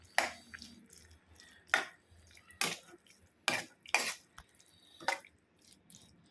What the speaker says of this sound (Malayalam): പയർ ചേർത്തിട്ടൊന്ന് മിക്സ് ചെയ്ത് കൊടുക്കാം.